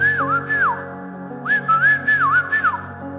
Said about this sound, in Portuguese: só comecei a assobiar